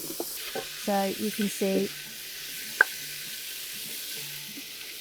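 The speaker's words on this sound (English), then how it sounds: "you can just keep sloshing a little bit into the pan just to stop it from sticking to the bottom. So you can constantly deglaze" Liquid splashed into a hot pan for a Cajun-style Louisiana boil, giving a steady faint sizzle with a brief clink, while a person speaks briefly near the start.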